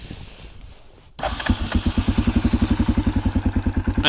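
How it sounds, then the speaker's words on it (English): A Yamaha Kodiak 400 quad's engine cranks and catches after a quiet second, then settles into a loud, steady, rhythmic idle with evenly spaced thumping pulses, close up and alone with no talk. "Obviously it starts up on the button"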